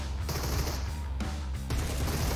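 Sustained bursts of automatic gunfire in a shooter video game, loud and continuous with a few sharp breaks between volleys.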